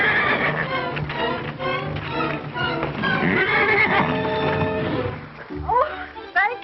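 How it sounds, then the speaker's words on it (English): A horse whinnies loudly in a 1930s western, a long wavering neigh over and between speech, followed near the end by a shorter second whinny. "That horse is wild."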